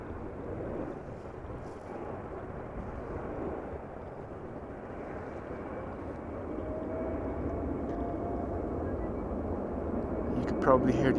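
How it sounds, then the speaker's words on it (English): Engines of a Boeing 777-200ER airliner, 19 years old, spool up for takeoff on runway 09 at Amsterdam Schiphol Airport. The sound is a steady, distant broadband roar with wind noise that grows slightly louder toward the end. "You can probably hear the airplane spool up,"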